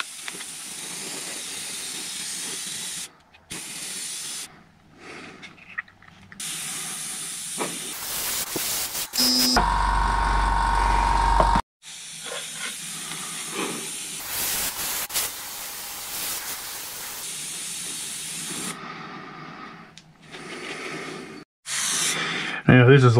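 Spray can hissing in bursts as light coats of red paint go onto a Kyosho Pegasus RC car body, several close sprays separated by pauses, with talk between them.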